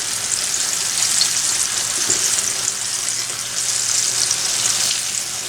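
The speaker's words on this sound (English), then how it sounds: "I'm just going to fry half of them" Tomatoes frying in a pan give a steady, loud broadband sizzle that holds throughout, with someone talking over it.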